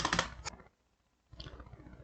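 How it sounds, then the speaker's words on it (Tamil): Close keyboard typing during a Python coding lesson: a rapid clatter of keystrokes, a pause of under a second, then a second burst of clicks, with no talking. "இருங்க நான் வந்து டைப் பண்ணிக்கிறேன்"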